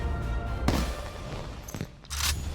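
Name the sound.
explosions in Black Ops 3 Zombies video game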